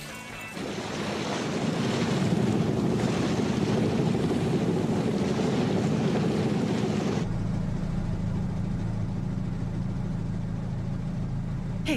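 A motorboat running on the open sea, its dense roar of engine, hull slap and wind filling the whole stretch, loud and unbroken, with no talking.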